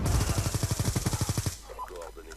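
An automatic turret in the shooter game Black Ops 2 fires a rapid, evenly spaced burst of about a dozen shots for a second and a half, then cuts off into quieter game ambience.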